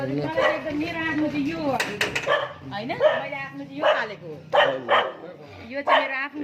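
A blind dog kept indoors barks repeatedly and close by, sharp yelping barks in uneven bursts with short whines between them, echoing slightly in the room.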